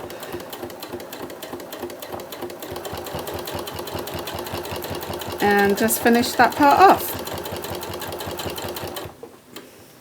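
A sewing machine runs in a fast, steady mechanical stitching rhythm while sewing a bag, close and continuous, with someone talking briefly over it before the motor stops near the end.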